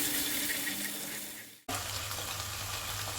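Water pouring from a tap into a pan of tomato paste, a steady broadband rush that cuts off briefly and then resumes as a fuller, lower splashing stream, close and fairly loud with no voices.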